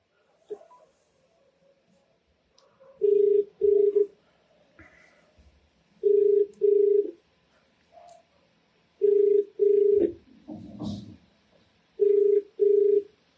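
An outgoing telephone call rings unanswered: a steady two-pulse ringback tone repeats four times at even intervals, loud and clear, with faint background shuffling and a brief noisy burst between rings.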